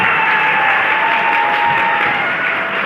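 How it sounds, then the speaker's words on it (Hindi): A seminar audience claps together in sustained, dense applause that stays loud and even for about three seconds, close and filling the room, with no speech over it. "अब ताली बजाओ इसके लिए।"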